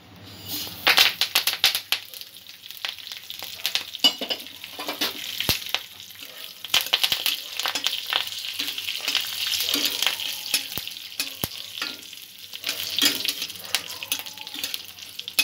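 Cumin, mustard seeds, curry leaves and green chillies fry in oil for a dhokla tempering, crackling and popping in dense bursts with stirring rattles, close and loud, pausing briefly before sputtering again.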